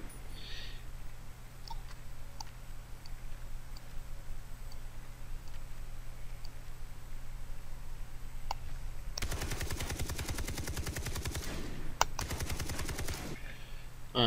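Automatic gunfire in a shooter video game comes in two sustained rapid bursts, loud and close, following a long stretch of low background hum with occasional faint clicks.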